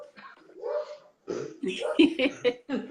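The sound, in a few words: dog barking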